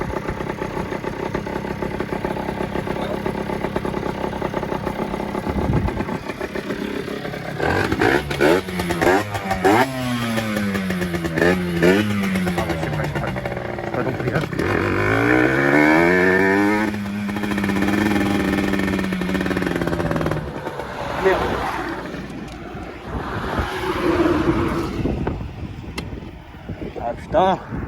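A 50cc motorcycle without a clutch, overheating, rides along with a buzzing engine that rises and falls in pitch through repeated revs and gear changes, mixed with wind noise while a rider talks over it.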